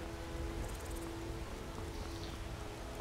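Rain falls steadily in the video game Skyrim as a soft, even hiss that holds without a break, with a faint low hum beneath.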